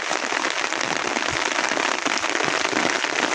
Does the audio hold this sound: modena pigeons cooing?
no